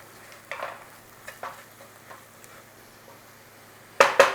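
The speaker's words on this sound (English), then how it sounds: "Nice little stir in and bloom your curry powder." Curry powder and extra turmeric are stirred into a hot pan, giving soft, intermittent scraping strokes over a faint sizzle, ending in two louder, closer clatters of the spoon against the pan.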